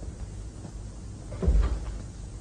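A door closes with a single muffled thump about two-thirds of the way through, over a steady background of room noise.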